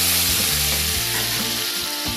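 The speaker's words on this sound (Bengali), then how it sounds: "আলু আর টমেটোটাকে অল্প কিছুক্ষণ আবারও ভেজে নেব।" Potatoes and chopped tomatoes frying with a little salt in a pan: a loud, close, continuous sizzle and crackle of hot oil, steady throughout with no voices.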